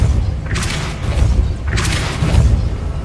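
A Depulso spell is cast twice in the Hogwarts Legacy video game, each cast a loud whooshing burst landing with a deep thud, separated by about a second over a low rumbling background.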